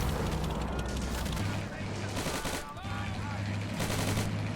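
Battle noise from the Army Men: Plastic Wars game, with dense gunfire and booms layered over a steady low rumble, continuous and loud throughout.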